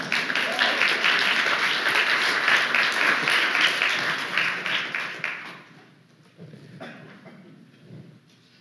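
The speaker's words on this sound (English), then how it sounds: "Do I hear applause?" Audience applause at a talk, a thick burst of many hands clapping that fades away after about five seconds, leaving faint scattered taps and room noise.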